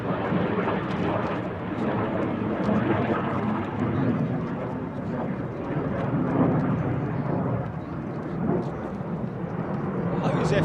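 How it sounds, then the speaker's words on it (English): F-35 fighter jet passing overhead at RAF Lakenheath, a sustained low rumbling roar that holds steady throughout, with faint voices underneath. "Oh, it's a single. F-35."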